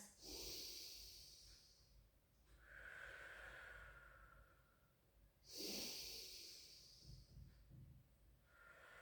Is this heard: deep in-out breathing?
yes